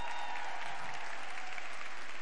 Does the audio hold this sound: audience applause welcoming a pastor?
yes